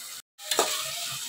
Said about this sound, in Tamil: தக்காளி பச்சை மிளகாய் நல்லா வதக்கிடணும்.